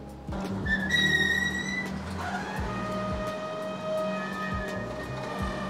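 Cabin of a flood-damaged Honda Brio fitted with new Z3RO sound damping while driving, a steady low road and engine rumble with repeated soft thumps and a brief whistling tone early on, no talk.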